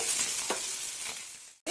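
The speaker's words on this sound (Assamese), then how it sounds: "মই এনেকৈ ইয়াক অলপ টাইম মিডিয়াম ফ্লেমত সিজাই থাকিম, লৰাই লৰাই" Pigeon curry with potatoes is stirred in a pot over a medium flame, making a brief, soft sizzle and scraping that drops out near the end before a sharp clink.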